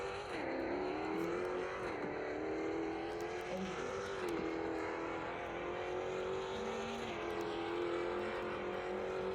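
An Aston Martin Vantage in a car video game revs and drones continuously, its engine pitch rising and dipping through repeated throttle changes, loud and steady with no talking.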